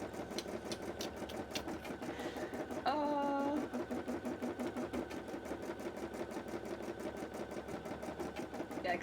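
Steady rapid stitching of a home embroidery machine running continuously and close, with a brief higher whine near the start and soft talk in the background.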